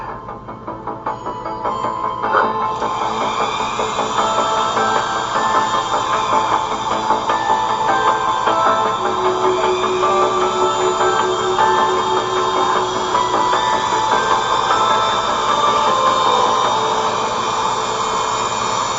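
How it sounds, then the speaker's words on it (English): A Dremel 3000 rotary tool, set around speed 8, spins fast with a loud, continuous high-pitched whine and motor hum that rises in the first couple of seconds, then holds steady throughout. "For this Dremel here, which is a Dremel 3000, it's around the marker of 8 here."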